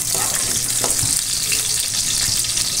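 Garlic fries in hot oil in a pan, a loud, dense sizzle with sharp popping splatters, heard up close and alone while cooking chicken feet with taro in coconut milk.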